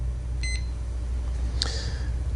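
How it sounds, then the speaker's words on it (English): A thermostat touch pad gives a short electronic beep, a pair of quick tones close together, then a brighter chirp that fades, over a steady low hum. "the audible tone that you hear when pressing the touch pads on the thermostat"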